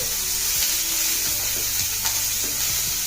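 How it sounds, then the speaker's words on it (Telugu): Fried carrot pieces are stirred into a sizzling spicy masala in a pan for carrot 65. A loud, continuous fry hiss carries several spoon clacks and scrapes against the pan, with no voices. "ఇందాక వేయించి పెట్టుకున్న క్యారెట్ ముక్కలు వేసేసి"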